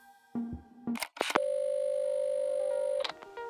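Phone tones in the video game Assemble With Care: a couple of short electronic beeps followed by a clicking handset sound, then a loud, steady sustained dial-type tone lasting almost two seconds, with no voices.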